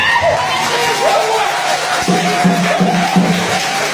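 A church congregation cheers and acclaims the Lord in a loud, continuous roar of shouts and whoops, voices rising and overlapping in a large room.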